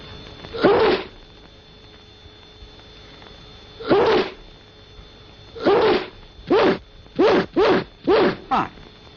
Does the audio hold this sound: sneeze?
yes